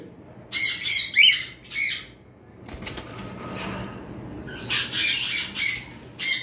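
Pet pied cockatiels squawking in loud, harsh bursts, a cluster at the start and another run toward the end, with a quieter stretch of background noise between.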